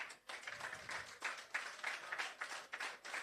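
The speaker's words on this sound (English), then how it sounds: "Give Brandon a round of applause." An audience at a shelter recovery handing-over ceremony applauds, giving a soft, distant patter of mixed clapping in uneven pulses that carries on throughout without talk.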